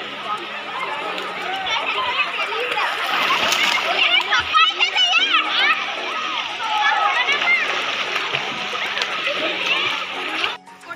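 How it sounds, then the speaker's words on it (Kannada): Water splashes steadily as a family bathes in the river at Subrahmanya, with children's voices and chatter mixed in throughout. "ನಾವು ಇವಾಗ ಸುಬ್ರಹ್ಮಣ್ಯದ ನದಿಯಲ್ಲಿ ಸ್ನಾನ ಮಾಡ್ತಾ ಇದ್ದೀವಿ"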